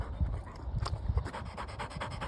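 A worn-out dog pants heavily after a run in an open field, a steady run of quick, close breaths with an occasional rustle.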